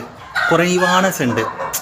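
A country chicken rooster crows once, loud and close, a long harmonic cock-a-doodle-doo rising and then falling, with a brief cluck at the end.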